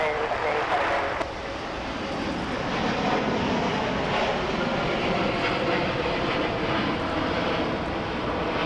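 Broad, steady roar of a United heavy airliner taking off from runway 25 right at Los Angeles International Airport, loud and sustained throughout with a faint background hum.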